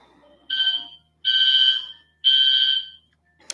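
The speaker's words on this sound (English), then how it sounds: "Apparently there's a fire alarm going off in my building now." A building fire alarm during a test sounds three loud electronic tones in a steady pattern, each about half a second to a second long with short silent gaps between them.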